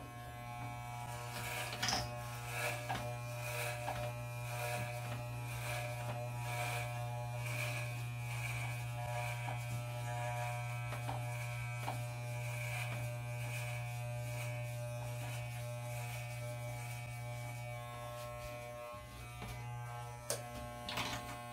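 A Wahl electric hair clipper runs steadily during a self haircut, a constant close buzzing hum with faint rhythmic changes in tone as the blades pass through hair, with no voices.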